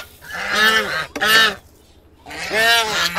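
Geese and ducks honk up close, three loud, drawn-out nasal calls separated by brief pauses.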